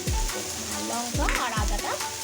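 Sliced onion and chilli fry in a pan over full heat, giving a continuous sizzle broken by a few dull thumps and scrapes from stirring.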